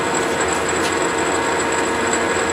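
A Monarch Model K 13 x 30 inch gear head engine lathe runs with its spindle turning and half nuts engaged for threading, giving a steady, loud mechanical whir and gear hum that carries on evenly throughout, with no voices.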